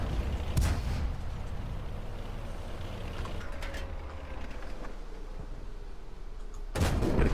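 World of Tanks cannon fire from a Turan III or M56 Scorpion tank: a sharp loud blast near the start, a low steady engine rumble through the middle, and a second heavy shot at the end.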